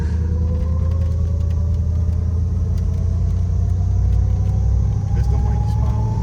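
A 1971 Plymouth Roadrunner, revived after sitting for 35 years, rumbles along the road with a deep, steady V8 drone and rising tones as it pulls, with people talking over it inside the car.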